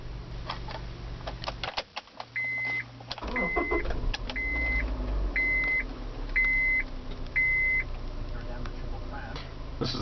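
A 2008 Honda CR-V engine idles steadily after starting, a low continuous hum under a series of evenly spaced electronic chimes, with a person talking over it.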